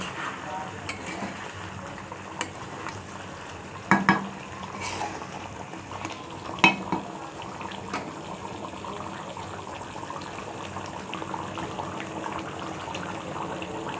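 A spoon stirring curry in a pan after coriander leaves go in, soft scraping and light clinks of utensil on metal with a couple of sharper knocks, quiet and close in a home kitchen.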